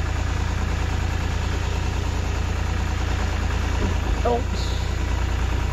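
An old Geo car engine idles while the car is being moved, a steady low rumble running throughout, with a brief spoken word near the end.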